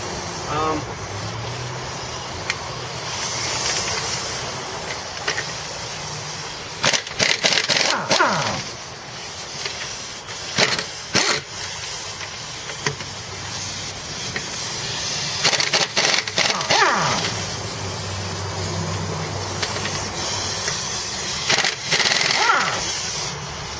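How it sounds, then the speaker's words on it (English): Work on the rear wheel of a 2005 Nissan Murano raised on jack stands, with repeated sharp metallic bursts like an impact wrench on lug nuts breaking through steady background noise, fairly close. "I'm going to take the wheel off"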